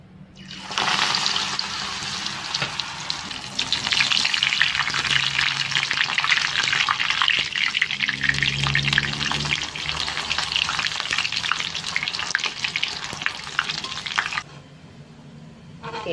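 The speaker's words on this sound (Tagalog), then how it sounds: "Dito na rin po tayo magprito sa ating pinagprituan kanina." Vegetable okoy fritters made of squash, carrot and parsley fry in hot oil with a loud, steady sizzle that starts abruptly and runs for about fourteen seconds, with faint stirring beneath it before it drops away.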